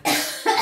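A person coughs twice in quick succession, close and fairly loud, with a short pause between the two harsh bursts.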